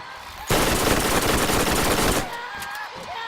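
Rapid automatic gunfire in Borderlands' Underdome arena, a dense, loud burst lasting nearly two seconds before cutting off, followed by fainter scattered shots and game sounds.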